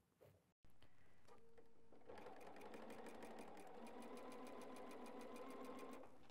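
A sewing machine stitches a quilt seam in a steady, fast run of needle strokes, close and loud, starting after a brief pause and running evenly to the end with no talk.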